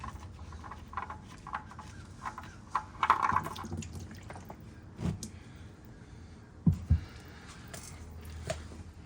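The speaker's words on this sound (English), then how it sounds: "I'm gonna let some of this stop dripping just to get a lot of this old oil out" Old engine oil drips from the oil pan of a Nissan 350Z onto a driveway, with scattered soft drips and patters and a few heavier splats among faint background rustle and wind.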